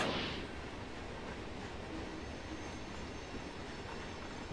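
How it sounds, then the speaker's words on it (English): A train pulls in within the Run8 V2 railroad simulator on the Selkirk route, a steady, dense rumble of rolling wheels and railcars holding level throughout, with no talk. "Guess that's the train coming in."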